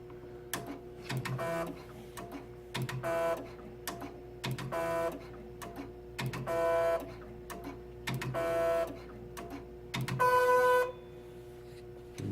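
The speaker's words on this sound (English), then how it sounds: "it's automatically stepping back and just doing a ball bump" A K&S 4524AD wire bonder runs an automatic ball-bumping cycle, giving a steady mechanical hum broken by six evenly spaced bursts of clicking and whirring at close range, the last one louder and longer.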